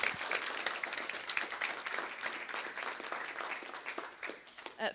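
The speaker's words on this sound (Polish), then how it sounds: "gorące brawa dla wolontariuszy" A crowd at a Polish youth conference event applauds volunteers, steady dense clapping throughout, moderately distant, with a few louder claps near the end.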